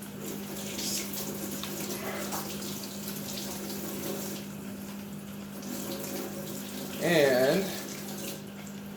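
Hot water runs into a pail for mixing bee feed, with a continuous splashing rush and a steady hum beneath, briefly interrupted by a short word of speech.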